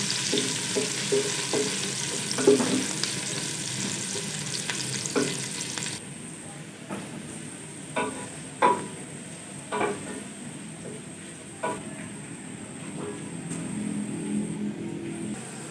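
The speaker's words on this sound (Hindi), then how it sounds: "2 प्याज डालेंगे दरमियाने साइज़ के कटे हुए। प्याज को अच्छी तरह गोल्डन कर लेंगे।" Two chopped medium onions sizzle in hot oil for a beef pulao, a broad steady frying hiss punctuated by repeated spoon stirs and clacks against the pot, close and fairly loud, without speech.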